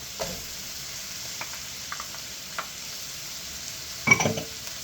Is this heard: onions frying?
yes